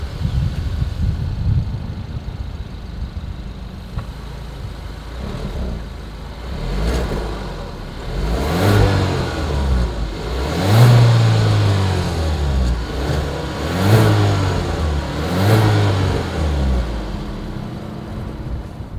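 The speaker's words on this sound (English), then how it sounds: "As always, here is that exhaust clip." A 2021 Kia Seltos exhaust idles low, then revs several times in rising and falling bursts, throaty and close, with pauses back to idle between.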